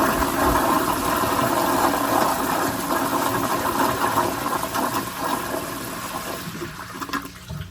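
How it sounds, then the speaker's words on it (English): A 1978 American Standard Glenco 4.5-gallon-per-flush toilet gives a full-power flush: a loud, steady gush and roar of water that holds for about six seconds, then tapers into a quieter gurgling refill. "now we'll do one more full power flush."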